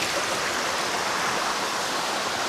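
Rushing water at Ettina Hole waterfall near the Shiradi Ghat route to Dharmasthala produces a loud, steady broadband roar without a break.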